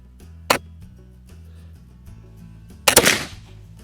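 Two sharp rifle shots from a Kibler Southern Mountain muzzleloader firing homemade black powder crack out close by, a short one early and a louder, longer-ringing blast near the end.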